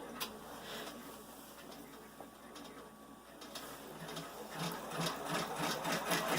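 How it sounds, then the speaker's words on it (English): An embroidery machine tacks felt fabric down in the hoop, a steady rapid stitching chatter close by that grows slightly louder toward the end. "I'm going to go ahead and let my machine tack that felt fabric down"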